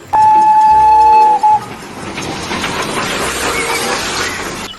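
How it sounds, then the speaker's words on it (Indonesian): A toy Thomas the train lets out a loud, steady whistle-like tone for about a second and a half, then gives way to a softer, continuous rumbling train noise. "Kereta api Thomas."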